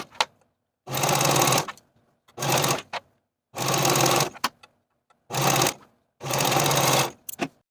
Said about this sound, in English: Then using your sewing machine or your serger, sew all the way around with a 5/8 inch seam allowance